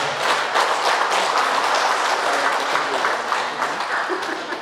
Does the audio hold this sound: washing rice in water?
no